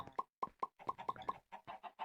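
Minecraft chickens in the Stoneblock 2 modpack give a run of about a dozen short, clipped clucks in an uneven rhythm, clear and close with silence between calls.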